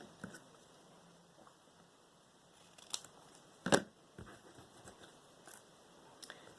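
Scissors snip a strip of magazine paper for handmade beads, with one sharp close cut standing out among a few faint clicks and handling sounds in a quiet room.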